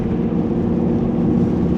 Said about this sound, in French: Regarde, t'entends la voiture comme elle ronfle?